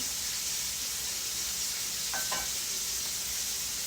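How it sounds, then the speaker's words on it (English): Shrimp sears in a pan of hot scallop juice, giving a loud, continuous close sizzle and hiss with a brief scrape of stirring midway. "my next step will be to take that shrimp, and I'm going to pan sear it"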